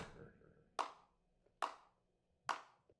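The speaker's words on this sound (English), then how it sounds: "who's coming up here clapping? The slow clap interrupted the Hersher just before she launched her lance" Three slow, evenly spaced claps ring out sharply in a Honkai Impact 3rd video game cutscene, each with a short echoing decay over quiet background.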